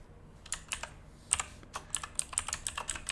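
Quick, irregular keystrokes on a clicky mechanical computer keyboard, close and fairly quiet, with bursts of several taps and no talking.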